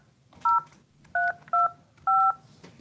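Telephone keypad DTMF tones dial a number on a correctional facility phone line: four clear, loud beeps of varying length with short gaps between them, over faint background noise.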